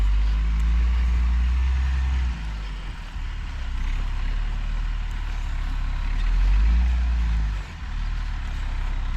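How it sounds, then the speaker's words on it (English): A single axle dump truck drives over rough, bumpy dirt ground at a pond dig, its engine a loud, steady low rumble that dips briefly and swells again, close by with no talk. "A little nerve-wracking in a single axle truck on this ground's a little rough and bumpy out through here"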